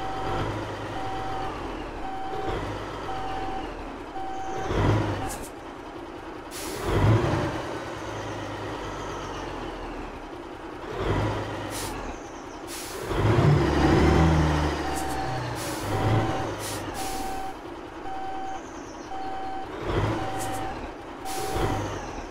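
Reversing beeps from a heavy truck in the Alaskan Road Truckers driving game, a steady repeating alarm tone running through the scene and broken by several loud hissing air-brake releases, with engine rumble underneath and no speech.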